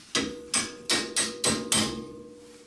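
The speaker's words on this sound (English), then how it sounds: "while I'm tapping it'll go through." Six sharp hammer taps on a Honda Accord lower control arm compliance bushing, evenly spaced and close, each ringing briefly before fading, with no talk.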